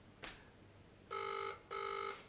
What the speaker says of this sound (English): It's now ringing.